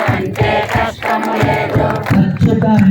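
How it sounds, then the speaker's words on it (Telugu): An audience at a devotional discourse chanting Krishna's name in unison while clapping, a dense crowd of voices with rhythmic hand claps, loud and continuous. "ఇప్పుడు చప్పట్లు కొడుతూ కృష్ణ అంటే కష్టము లేదు,"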